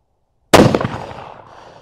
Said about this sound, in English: I'm gonna shoot at the top target.